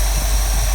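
A 1972 Lincoln Mark IV with its 460 V8 big block idling, air cleaner removed, gives a loud, steady, close rumble and roar with no break in the brief moment.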